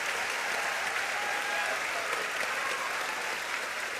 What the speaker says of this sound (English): And this crowd just erupt.